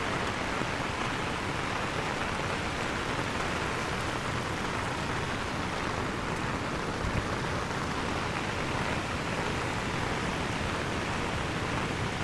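Heavy rain falls continuously beside Silver Waterfall in Sapa in the rainy season, producing an unbroken, uniform rushing hiss that stays constant in loudness for a long stretch with no one speaking.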